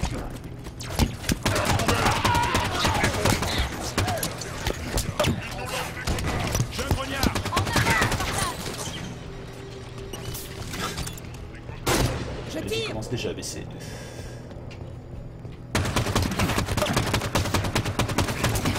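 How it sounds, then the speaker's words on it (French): Dense bursts of Halo 5: Guardians gunfire and explosions crackle over a busy soundscape, with someone speaking briefly amid the shooting. "Oh, le bruit des armes!"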